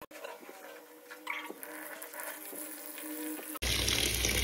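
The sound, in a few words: soaking and washing towels in detergent water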